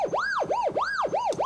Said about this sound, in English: in LFO mode, like a police siren patch